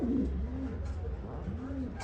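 Close, throaty coos from a large pigeon roll out in a few low, wavering phrases over a steady background hum.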